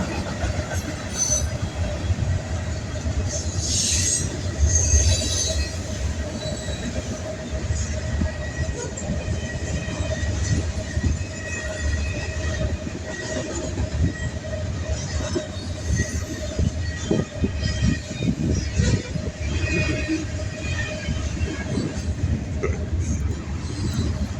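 Trains rumbling past during a 4th of July parade, a continuous heavy roll of wheels on rails with clacking and faint squeals, steady and close throughout.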